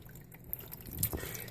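Water trickling and dripping from a Tetrafauna decorative reptile filter in a frog paludarium, a soft continuous dribble with a few brighter drip splashes, faint and close, no voices.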